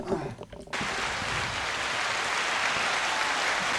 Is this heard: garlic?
no